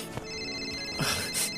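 A cellphone ringtone announcing an incoming call plays as a steady electronic tone, with two brighter bursts of ringing near the end, moderately loud and alone without speech.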